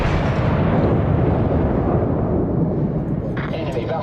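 Battleship guns fire on a target in World of Warships, a heavy, booming roar that slowly fades, with a voice speaking over it.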